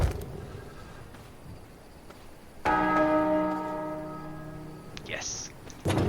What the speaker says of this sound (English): I can't believe there's actually doorbells.